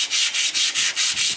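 Abrasive rubbing removes rust from the drive axle seal surface of a big truck. Seven even, harsh back-and-forth strokes sound close and loud in a steady rhythm, with no talking.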